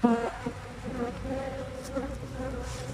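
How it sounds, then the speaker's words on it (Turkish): Honey bees fly around their hive in a dense, continuous buzzing drone, close and steady, with individual bees whining past now and then. "şöyle arılarımızın da uçuşunu göstereyim"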